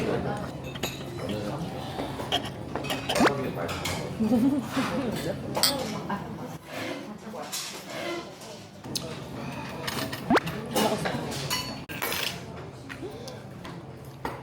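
Utensils clink and scrape against a dish as red sea bream belly is mixed with other ingredients at a Jeju restaurant, with irregular clatter running under steady conversation.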